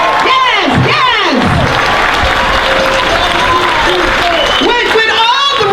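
Crowd at a George Floyd justice protest in San Francisco claps and cheers loudly and steadily, with whoops and shouting voices over continuous applause.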